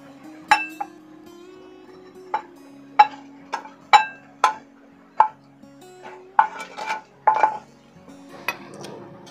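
Soaked flattened rice is moved into a bowl, with a series of sharp metal and dish clinks and scrapes arriving in irregular bursts, close and clear, with no voices.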